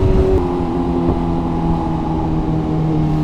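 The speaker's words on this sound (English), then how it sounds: "Oh, I love that tunnel so much. The bike just sounds so good." A loud, continuous superbike engine roar in a tunnel holds a steady, droning pitch with slight shifts, close and enveloping.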